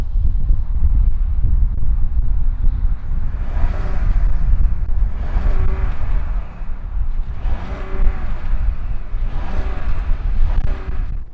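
A 2020 Audi A7 engine fires up and runs, a loud continuous rumble with repeated revving swells, heard close and alone with wind buffeting the microphone.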